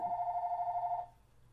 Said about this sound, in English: The phone starts ringing, hit the pause.